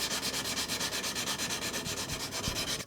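Sandpaper rubs back and forth by hand on a steel katana blade in quick, regular strokes, a close, steady scratchy hiss with an even rhythm.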